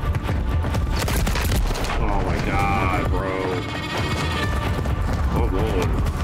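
Heavy gunfire and explosions in Call of Duty: Modern Warfare 3 (2023), a steady barrage of shots and booms with in-game voices speaking over the din.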